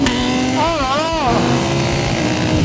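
A Kawasaki H2R motorcycle on a race track passes close by, its engine note sweeping up and down in pitch as it goes by, loud and continuous, with a voice speaking over it.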